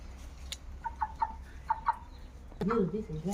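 Chickens cluck in a short series of soft, quick clucks nearby, followed by a louder, longer squawking call near the end.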